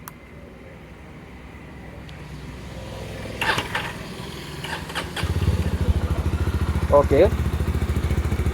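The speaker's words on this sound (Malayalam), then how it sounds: "അപ്പോൾ നമുക്ക് ഈ വാഹനം ഒന്ന് സ്റ്റാർട്ട് ചെയ്തിട്ട് അതിൻ്റെ എക്സോസ്റ്റ് നമുക്കൊന്ന് നോക്കാം" A Jawa 42 FJ 350 motorcycle starts up after a few clicks and clanks, its single-cylinder engine settling into a steady, close, thumping idle through the exhaust, with a brief spoken word nearby.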